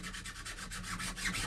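Sandpaper worked briskly over a hardened CA glue wad on a 3D printed part gives close, continuous rhythmic rubbing strokes, dry and gritty, with no one speaking.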